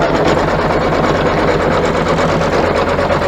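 An embroidery machine runs a basting stitch around fabric held in the hoop, giving a loud, steady, fast mechanical whirr with rapid needle chatter that continues without pause.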